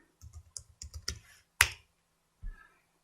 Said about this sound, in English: So let me open another terminal. And then here I type ipconfig,